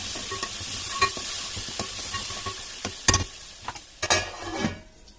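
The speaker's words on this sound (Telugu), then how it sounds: "మిక్సీ పట్టుకున్న మసాలా పేస్ట్ని అందులో వేసుకొని కలుపుకోవాలి" A spoon stirs ground masala paste through hot oil in a frying pan for Hyderabadi-style egg curry, giving a close, steady sizzle broken by scraping strokes that grow louder and more frequent toward the end.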